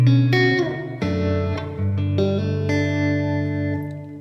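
Electric guitar played through a room reverb, several picked chords and notes sounding close with a short ambient tail after each, steady and alone.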